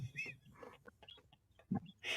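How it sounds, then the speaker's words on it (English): A neighbor's rooster calls outdoors at a distance, with scattered clucking-like bursts and a louder call near the end, faint against the room. "My neighbor's rooster's going off right now."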